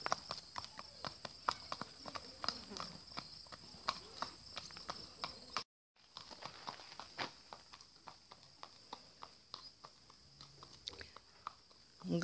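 A 2011 AHR gelding trotting under a rider, hooves clip-clopping in a quick, even rhythm across the whole stretch, fairly close and clear, with one brief dropout midway and a faint voice in the background.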